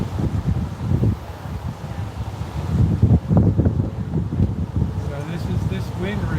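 Strong wind gusts across an outdoor microphone in Northern California wine country, a steady low rumble with buffeting surges that swell loudest midway, continuous throughout with no one speaking.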